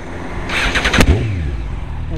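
A Honda Fireblade motorcycle engine starts: a sharp crank about midway that quickly catches into a steady, close-up running rumble over constant background noise.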